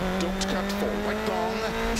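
A rally car in the Dirt Rally 2.0 video game, driven on a wheel, revs with a shifting engine tone, with tire noise and a steady hum running underneath.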